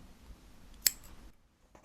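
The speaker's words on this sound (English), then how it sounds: "And then you can just cut your yarn." A single quick snip of scissors cuts through crochet yarn, a faint, close crisp click with soft handling noise around it.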